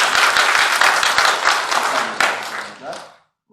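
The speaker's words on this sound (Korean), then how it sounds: "성가대 열심히 하고 박수." A church congregation applauds its choir during a Sunday worship service, dense clapping that stays loud for about two seconds, then thins and fades to silence.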